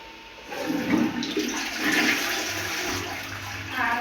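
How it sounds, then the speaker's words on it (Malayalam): A toilet flushes with a rushing gurgle of water that swells and drains over a few seconds, close by, ending in a short refilling swirl. "നമുക്കൊന്ന് ഫ്ലഷ് അടിച്ച് നോക്കാം"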